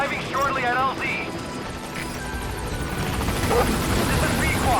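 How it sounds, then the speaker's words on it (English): Support helicopter arriving in the video game Metal Gear Solid V, a steady rotor roar that runs throughout at moderate loudness beneath game voices and radio chatter. "Support helicopter has arrived."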